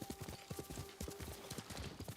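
Horse hooves clip-clopping in a video game, a steady, quick rhythm of soft thuds at moderate level, running continuously with no talk.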